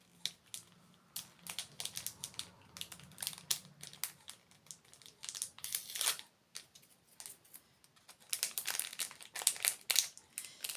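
Packaging clasp and wrapping on a Disney box being handled and opened, crinkly bursts of plastic and cardboard rustling in irregular clusters at close range, no speech.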